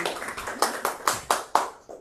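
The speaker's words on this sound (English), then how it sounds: "We should give her a round of applause." A few people clap at a church women's ministries gathering before a plant-based sourdough bread bowl and soup making class, giving five or six spaced, moderately loud claps that fade out after about two seconds.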